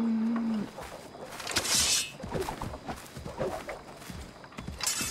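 Cows in the video game Assassin's Creed III give a low moo at the start, followed by hoof clip-clops and footsteps in the game's outdoor ambience, with faint talk in German.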